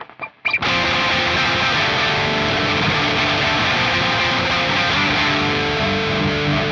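Electric guitar through a Fuzz Imp Furia distortion pedal and Echo Moon delay on a Revv amp's distorted channel. After a short picked lead-in, a dense, sustained distorted wash holds at steady loudness, the echo repeats smeared into one continuous roar.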